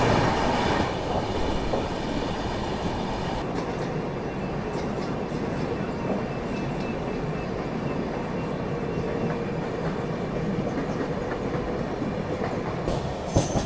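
The Swaraj Express passenger train runs on rails past Borivali, heard from inside as a continuous loud rumble with faint rhythmic clatter of wheels.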